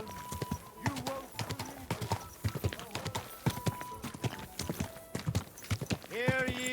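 Horse hooves clip-clop at a steady rhythm in the medieval video game Kingdom Come Deliverance 2, up close and under voices talking throughout, with a brief horse snort or whinny near the end.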